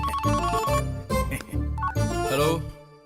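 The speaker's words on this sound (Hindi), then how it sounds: "रिंगटोन भी मुझे उसकी टोन में सुनाई दे रहा" A phone ringtone plays as a repeating melodic tune in several bursts across about three seconds, loud and close, with no talking over it.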